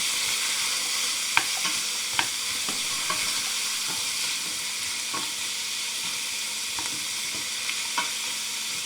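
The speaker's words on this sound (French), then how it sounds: "Bon, alors là, on a fait revenir les oignons." Onions and meat frying in a pan for hrira, a steady close sizzle with occasional light clicks of a spoon stirring, continuous and alone without talk.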